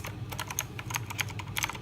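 Rapid clicky keystrokes on an AULA F2012 mechanical gaming keyboard with Cherry MX Blue switches, a quick, crisp run of close, distinct clicks with no talking.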